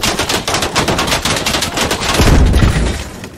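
Automatic gunfire from a machine gun in the military shooter Squad, rapid sustained bursts sprayed loudly throughout, with a heavier booming impact rumbling in near the end.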